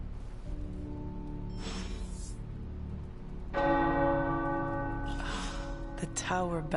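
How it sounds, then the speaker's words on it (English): Tower bells ring out in the video game Marvel's Midnight Suns, a sustained metallic tone whose louder strike swells midway, with voices and breaths murmuring alongside. "The tower bells are ringing."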